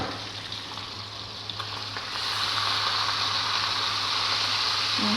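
Hilsa fish fries in a pan with a steady, close hiss. The sizzle gets louder and brighter about two seconds in, and no one talks.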